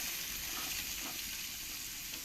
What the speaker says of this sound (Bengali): এবার এই তেলের মধ্যে দিয়ে দেবো রসুন কুচি আদা কুচি লঙ্কা কুচি দিয়ে ভালো করে আমি ফ্রাই করে